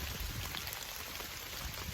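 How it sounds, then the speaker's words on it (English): Heavy rain pours down outdoors in a dense, loud, unbroken wash of drops hitting surfaces, close and constant throughout with no voices. "So you see, it's piss pouring rain right now."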